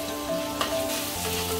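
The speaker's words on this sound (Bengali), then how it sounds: "এগুলো একসঙ্গে দিয়ে ভেজে নেব" Capsicum, onion and tomato fry together in a pan, giving a brief, close, even sizzle with a light stirring tap.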